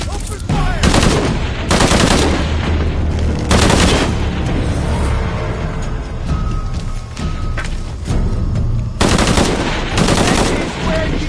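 Gunfire in Shadow of the Tomb Raider on PS4 Pro: loud bursts of automatic fire come in sharp, repeated volleys separated by short gaps, close and punchy, with game sounds between bursts.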